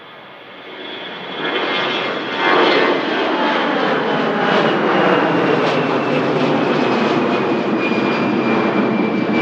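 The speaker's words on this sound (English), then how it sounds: "Next aircraft out is going to be the EasyJet." An EasyJet jet airliner takes off from Manchester Airport bound for Amsterdam Schiphol. Its engines swell into a loud, steady roar that holds strongly with no voices over it.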